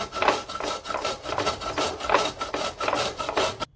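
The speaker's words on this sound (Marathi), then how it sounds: "असाच मी आता हा पूर्ण किसून घेणार आहे" A bottle gourd (dudhi bhopla) is grated by hand for thalipeeth, giving a steady run of close, rhythmic rasping strokes that continue without pause and without any talk.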